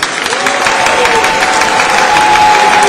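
A church congregation applauding to acclaim the Lord, with dense, steady clapping and a few cheers filling the room throughout, loud and close, with no clear speech.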